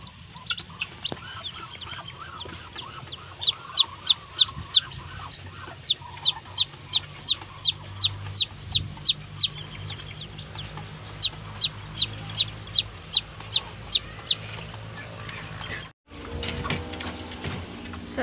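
Newly hatched native chicks peep in quick, high bursts of chirps near a hen, with soft low clucking and faint farmyard background throughout.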